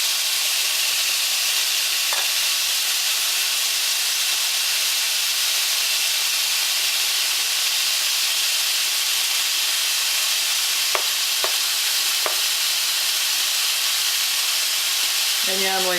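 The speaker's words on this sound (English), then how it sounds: "Put in my garlic. I'll put in my carrots right now." Garlic and carrots sizzle steadily in a hot frying pan, a constant close hiss running throughout with a few faint clicks and clinks near the end and no talking.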